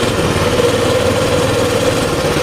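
A Baja Warrior minibike's small petrol engine drones steadily and loudly during a short ride along a driveway, a close continuous buzz with no pauses.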